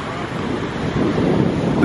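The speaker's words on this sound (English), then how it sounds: "The wind, yeah, the wind is powerful." Strong wind roars across the microphone on an island coast of Zanzibar in the Indian Ocean, a steady, loud, broadband rush that swells slightly toward the end, with no clear voices.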